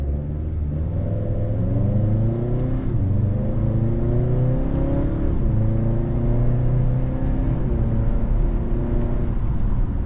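A 2025 Acura TLX A-Spec sedan in sport mode with manual paddle shifting pulls hard from inside the cabin, its engine note climbing in steady rising sweeps broken by quick shift dips, continuous and fairly loud with no talking.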